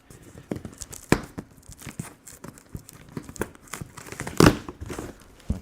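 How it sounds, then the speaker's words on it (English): Cardboard shipping box of a VEVOR electric milk tea shaker being cut open, with scattered crinkling, tearing and scraping noises up close and one louder rip near the end. "let's open it up, see what we get. And we'll just cut open the front here."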